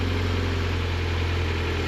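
A Spec Miata race car with a race exhaust idles steadily and loudly up close, a constant low throbbing rumble with no revving and no talk.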